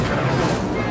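Incendio fire spell cast in Hogwarts Legacy, a dense, loud roaring whoosh of flame that holds steady for under a second with no voices.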